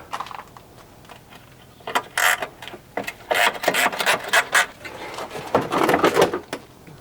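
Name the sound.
loosening fender bolt with a ratchet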